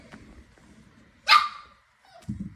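A dog lets out a single sharp, close bark in an otherwise quiet room, with faint shuffling noises before it and after it.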